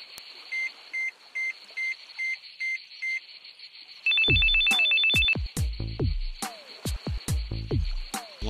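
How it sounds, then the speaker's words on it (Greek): A phone ringtone sounds as a series of eight short, evenly spaced electronic beeps, then a rapid, louder trilling ring, after which beat-driven music with sharp percussive hits takes over. "Θα πάρω τηλέφωνο, δεν αντέχω."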